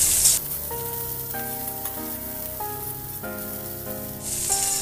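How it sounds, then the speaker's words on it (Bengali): Chopped onion hits hot oil already seasoned with cumin seeds and green chilies, giving a loud, steady close-up sizzle that runs the whole time, with soft melodic music playing underneath. "এবার পেঁয়াজ কুচি দেব। পেঁয়াজটাকে একটু ভেজে নেব।"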